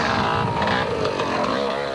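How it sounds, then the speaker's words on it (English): KTM enduro motorcycle with a broken exhaust pipe at an enduro race, a loud, raw, rasping engine note revving continuously up close, harsh and unmuffled for the whole stretch. "it sounds like the exhaust pipe has broken on the KTM"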